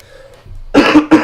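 A man hosting a live trading stream coughs a few times in quick succession, close and loud, after a quiet moment with a faint hum in the background.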